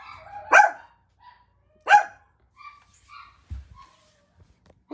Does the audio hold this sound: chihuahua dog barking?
yes